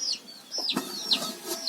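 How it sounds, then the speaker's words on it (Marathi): Village chickens cluck nearby in a few short, sparse calls with brief quiet gaps between them, set against a calm morning background. "सोडल्या कोंबड्या गेल्या"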